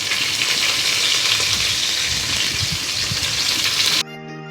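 Curry leaves and urad dal sizzle and crackle in hot oil in a pan, a loud, steady frying hiss that runs for about four seconds before cutting off abruptly.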